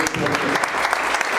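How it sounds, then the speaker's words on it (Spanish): Church congregation gives a loud, dense round of applause for its pastors, a close, continuous roar of clapping with a voice speaking over it. "que den un fuerte aplauso a ellos también"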